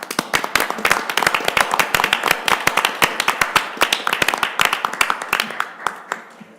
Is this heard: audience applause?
yes